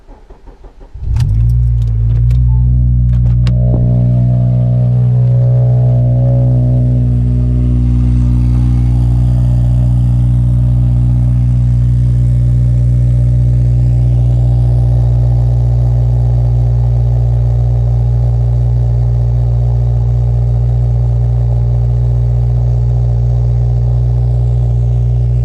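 A car engine cold-starts with a jangle of keys and a crank, then settles into a loud, steady, close idle that holds for over twenty seconds without speech.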